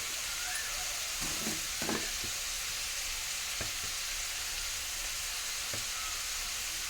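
Brinjals fry in a pan seasoned with salt and turmeric, a soft, continuous sizzle with occasional stirring scrapes and clinks, fairly quiet and without talk.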